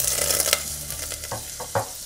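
Butter sizzles and spits in a small preheated pot, a steady frying hiss broken by a few louder pops and a spoon stirring near the end.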